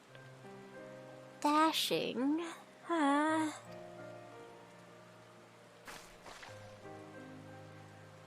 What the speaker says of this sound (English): now the rain's kind of appropriate